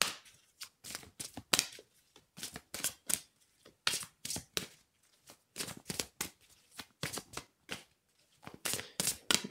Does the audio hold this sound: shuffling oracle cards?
yes